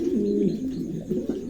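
Tiger pigeons coo nearby in soft, throaty rolling calls, repeated in a couple of low bursts over a steady background hum.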